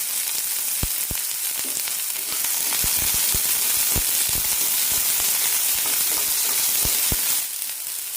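Mustard seeds and onion fry in hot oil for a potato stir fry, giving a steady loud sizzle throughout with sharp popping crackles scattered across it, close to the pan.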